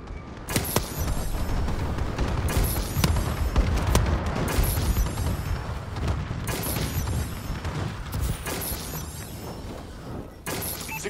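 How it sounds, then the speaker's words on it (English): Bombing run in a military shooter video game, a rapid series of heavy explosions and shattering blasts, loud and dense, rumbling on and off throughout with no talk. "Friendly bombing run incoming."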